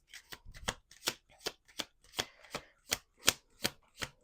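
Tarot cards being shuffled by hand, a run of about a dozen crisp riffling bursts in a quick, fairly even rhythm, close and quiet with no voices.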